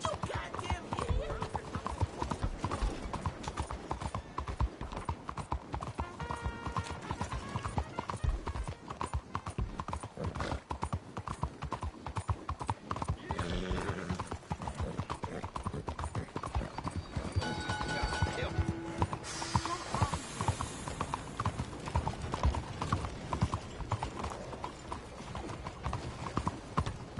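Horse hooves galloping in Red Dead Redemption 2, a steady fast clip-clop running throughout at close range, with a brief whinny and scattered game sounds and voices layered over the hoofbeats.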